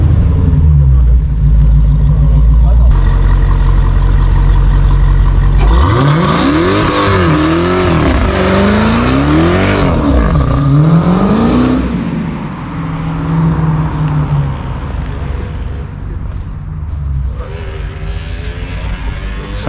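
A high-powered 810 hp car engine revs hard and loud to heat the tires, with rising and falling pitch sweeps over a steady roar, then settling into a lower rumble.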